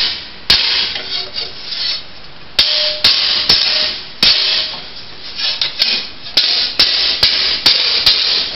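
Hammer blows on an 11 gauge sheet metal part against an anvil, with sharp ringing strikes coming at irregular intervals, about a dozen in all, over a continuous background rumble, close and loud.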